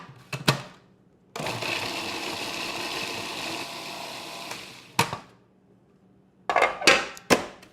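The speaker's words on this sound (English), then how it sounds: "The food processor wouldn't be able to handle it." Food processor chopping cauliflower, a steady whirring motor run of about four seconds with rattling florets, bracketed by short clunks and bursts before and after, close by.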